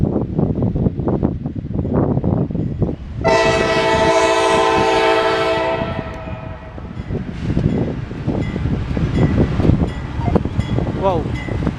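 A westbound CSX intermodal freight train rumbles past in Fostoria, Ohio, and sounds a loud, sustained horn blast for a few seconds in the middle, with heavy rolling rail noise continuing before and after.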